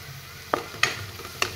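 Ground spices for a fish and potato curry frying in a pan, with three short sizzling bursts as ingredients hit the hot oil over a low steady crackle.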